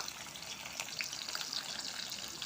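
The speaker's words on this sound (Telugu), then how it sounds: "బాండ్లీలో ఆయిల్ వేసుకొని స్టవ్ మీద పెట్టుకొని ఉల్లిగడ్డ వేయాలి" Onions frying in hot oil in a pan, a steady broadband sizzle with soft crackles, close and moderately quiet, with no voices.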